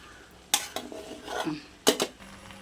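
Biryani being mixed in a pot, with metal spoon clanks and scrapes against the vessel in two distinct bursts, close and fairly loud amid quiet.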